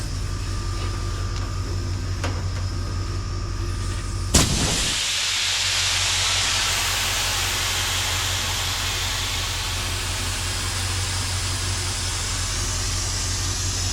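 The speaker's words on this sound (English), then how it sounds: "I can hear a leak down there somewhere" Compressed air leaks with a sharp burst then a broad steady hiss from a modified air-powered machine, following a low constant machinery hum; the hiss continues loudly to the end with no talk.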